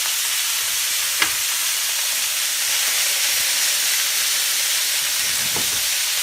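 Ground beef frying in a pan for Mexican picadillo, a steady loud sizzle and hiss throughout, with a couple of brief clinks from a utensil.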